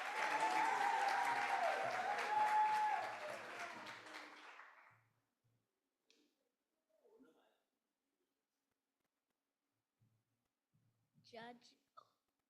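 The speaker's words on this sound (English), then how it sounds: "Please give him a round of applause." An audience at a school oratorical competition bursts into loud applause for a young contestant; the clapping lasts about five seconds and then fades out, followed by a few faint scattered sounds in a quiet hall.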